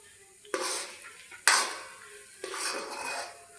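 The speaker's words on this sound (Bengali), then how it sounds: "এইভাবে আমি অল্প আঁচে নাড়তেই থাকবো যতক্ষণ না শক্ত হচ্ছে সুজির ডোটা।" Semolina and milk stirred in a pan over low heat with cardamom and ghee, the spoon scraping the pan in three distinct bursts of clatter, close and moderately loud.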